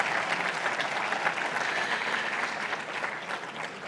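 Steady audience applause at a 2021 digital power industry summit, a dense wash of many hands clapping evenly throughout, moderately loud with no talk over it.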